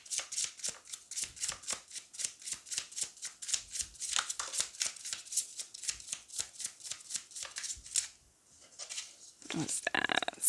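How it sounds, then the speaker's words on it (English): Rapid, rhythmic riffling of a tarot card deck repeats in quick bursts for several seconds, close by, then pauses before a brief final shuffle with a faint voice. "let me show you how this one shuffles again."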